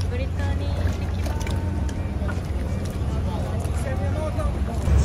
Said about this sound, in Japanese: このボートに乗ってカプリ島に行ってきます